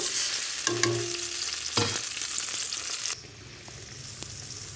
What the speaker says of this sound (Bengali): সামান্য একটু জল দিলাম, দিয়ে মশলাটা কষে নেব।